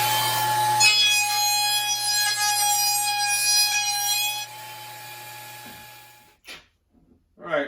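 A router running a round-over bit along the edges of a wooden storage box, a loud steady high whine with ringing tones that spins down and stops, followed by brief handling knocks.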